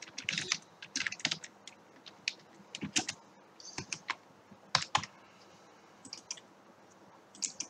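Code is typed on a computer keyboard in close, quick bursts of clicky keystrokes with brief pauses between runs, and no talk over them.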